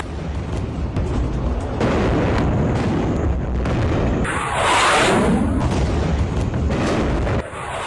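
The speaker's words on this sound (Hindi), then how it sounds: "ईरान से जो हमला हुआ बड़ी मिसाइलों से, वो सीधे आकर इजराइल के बड़े शहरों में गिरी" Large missiles from Iran striking Israeli cities, including Tel Aviv, produce deep, rolling booms and a continuous roar that swells into a heavy blast midway before cutting off.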